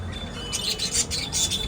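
Short pigeon calls repeat in quick bursts over a steady low background hum, close by, with no talking.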